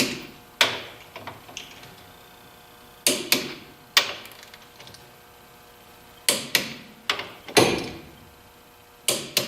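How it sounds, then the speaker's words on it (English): Torque wrench clicks and metallic ratcheting come from tightening the main caps on a Dana 44 differential with an Auburn Gear Grip N Loc limited slip. Sharp, separate clicks arrive in irregular bursts, close by in a quiet garage. "we're going to torque all these main caps to 80 foot-pounds of torque"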